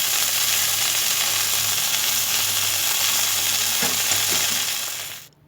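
Beef seekh kebabs fry on a tawa with a loud, dense, continuous sizzle that cuts off abruptly at the end.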